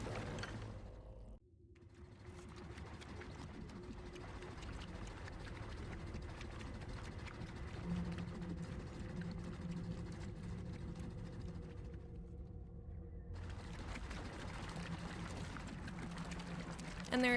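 A steady, loud rush of motion through water in the Conquistadorio video game: a continuous broadband wash with a low mechanical churn underneath. It runs without a break for most of the stretch and carries no talk.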